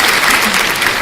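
Short, loud burst of dense audience clapping at a religious talk, filling the room with a steady patter of many hands and no voices over it.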